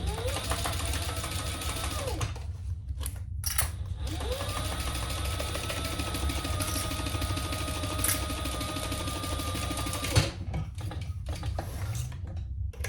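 A sewing machine stitches a handbag with a steady mechanical whir running close and loud, pausing briefly twice before restarting, and no speech over it.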